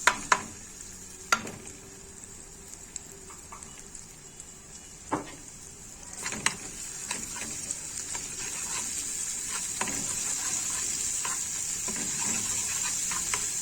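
Garlic fries in a pan with two spoonfuls of oil for Egyptian fatteh and gives a steady soft sizzle. Occasional utensil taps and stirring clinks sound over it, and the hiss grows fuller toward the end.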